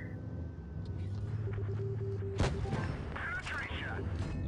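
Tank cannon shells firing in a video game, with one sharp, loud blast standing out midway over a steady low engine rumble and scattered battle noise.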